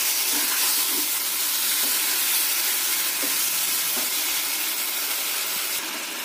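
Food sizzling and hissing in oil as it is stir-fried in a pan, a dense, even crackle that carries on steadily and fairly loudly throughout.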